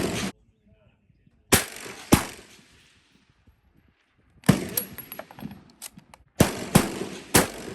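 An M1895 Chilean Mauser bolt-action rifle fires at an outdoor range at a 600-yard target. Several sharp, loud reports are spaced a second or more apart, with mechanical handling noise between them.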